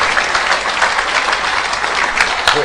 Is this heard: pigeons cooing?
no